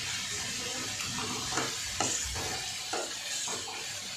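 A spoon scrapes and stirs suraikkai koottu in a pan after grated coconut goes in, giving soft rhythmic scrapes over a steady, gentle sizzle close by.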